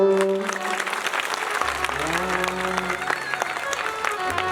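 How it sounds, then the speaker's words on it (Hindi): Listeners at a village religious discourse clap along, with crisp hand claps over sustained tonal sound and a faint voice underneath, moderately loud throughout. "तालियां बजा लो।"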